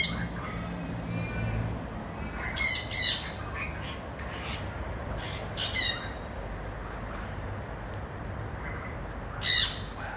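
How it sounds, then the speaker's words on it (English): Green parrots squawking in a zoo exhibit at Perth Zoo, several short harsh squawk bursts scattered among softer chirps over steady outdoor background noise, moderately near. "this time we have the green parrot. They're very noisy"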